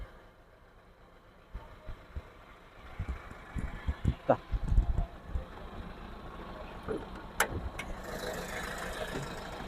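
A Mahindra Xylo car engine idles quietly in the background while handling noises and a few thumps and clicks sound up close.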